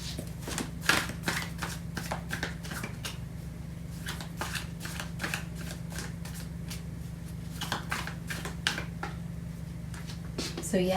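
Tarot cards are shuffled close by, a steady run of crisp riffling snaps and slides over a faint low hum.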